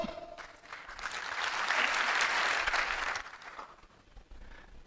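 An indoor audience at a business seminar claps on cue, producing a short burst of applause that swells and then fades over a few seconds. No voices are heard over it.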